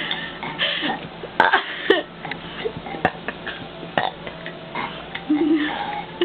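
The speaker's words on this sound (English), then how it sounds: "Puppy, stop burping!" A puppy burps repeatedly in short, throaty bursts at close range, spaced irregularly with small squeaks and grunts between them.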